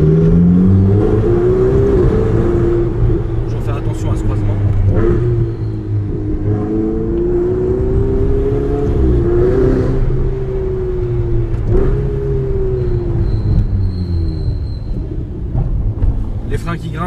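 A sports car with paddle shifters and ceramic brakes accelerates hard along a resonant street, its engine revving up and dropping through several gear changes, loud and close, with occasional voices inside the car.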